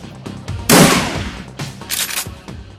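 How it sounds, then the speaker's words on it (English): Shotgun fire in a video game, one loud, sharp, booming blast followed by a few softer shots and thuds, close and alone with no talk. "shotguns in this game feel really beefy, and when they actually do hit, oh, beautiful"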